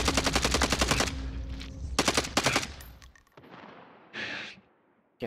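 Rapid automatic gunfire in a first-person video game shooter, loud bursts of machine-gun fire in quick succession followed by a short pause and a brief final burst.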